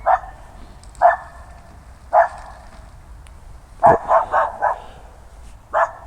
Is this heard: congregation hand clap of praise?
no